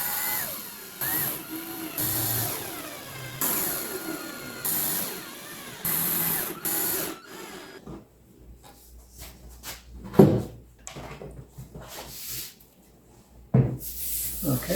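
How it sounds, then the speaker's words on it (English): A power drill drives screws into wooden couch and bed boxes being built for a camping minivan, giving several short whirring bursts followed by quieter knocks and handling sounds. "So I went ahead and moved those screws and get them started."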